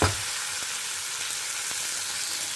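Finely chopped eggplant sautés in a pan with an even, continuous hiss of sizzling oil, close and moderately loud, after a short clatter at the very start and a couple of faint taps.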